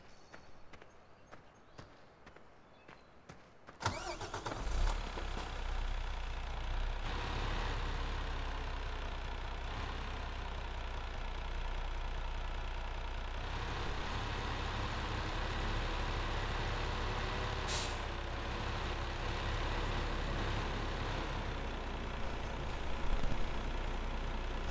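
A truck engine idles steadily in the Farm Sim video game on Xbox One, a constant low rumble that starts abruptly after a few seconds of quieter noise and holds at an even level throughout.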